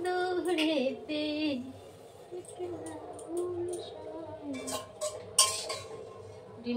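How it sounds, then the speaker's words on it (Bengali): A fried egg is lifted from the pan onto a plate in a home kitchen. Light clinks and clatters of utensil against dish sound close by, under intermittent talking. "ডিম ভাজাটা এখানে তুলে রাখি"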